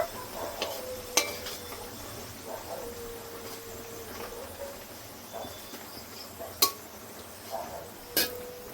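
Onions frying in oil for beresta, a low continuous sizzle broken by several sharp clinks and scrapes of a utensil against the pan.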